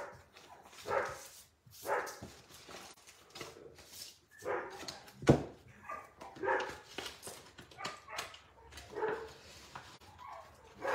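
Several dogs bark, yip and whimper eagerly in bursts throughout, fairly close, with a few sharper barks standing out against quieter whining between them.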